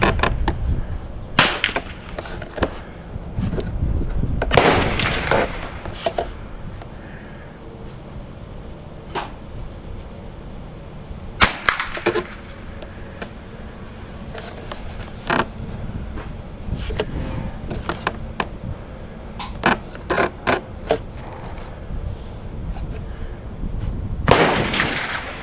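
Winchester M190 rifle firing at a target on an outdoor range: sharp, loud cracking shots spaced irregularly, some in quick pairs, over a steady low background rumble.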